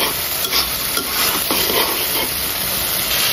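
Spice paste and ripe red tomatoes sizzle and hiss steadily in a pan while being stirred, loud and close, with a constant frying roar and faint stirring scrapes.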